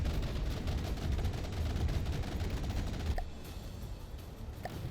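Rapid weapons fire and rumbling explosions from the naval combat game From The Depths, a dense continuous barrage that suddenly thins out partway through, leaving a quieter rumble with a few distinct shots.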